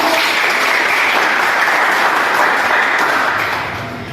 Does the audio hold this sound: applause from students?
yes